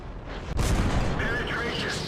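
A Tiger I (H) tank cannon firing in World of Tanks, one heavy booming shot with a rumbling tail, loud and close, with someone talking around it.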